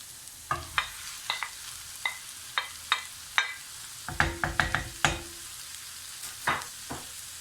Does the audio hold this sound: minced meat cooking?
yes